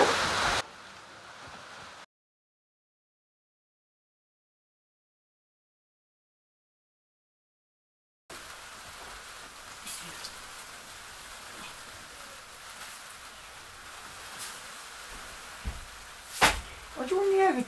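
Heavy rain falls steadily on a high mountain outpost, a dense continuous patter with occasional louder knocks and drops and a gap of silence early on.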